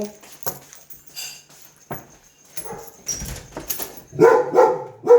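A dog barks a few times at a distance, then louder, sharper barks near the end, with quiet background voices earlier.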